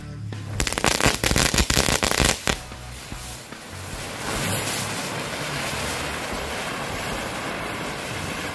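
A Hobbit mercon firecracker goes off in a quick string of loud, sharp cracks lasting about two seconds, followed by a long hissing, rushing wash of noise as the smoke and debris settle outdoors.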